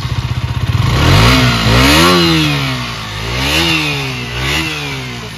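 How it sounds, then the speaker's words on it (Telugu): A KTM Duke 125 motorcycle with an underbelly exhaust starts and runs: a starter whir catches into a loud, close engine note that revs up and down in several swells, with no talk over it. "సో ఒక్కసారి ఆన్ చేద్దాం వెహికల్ని."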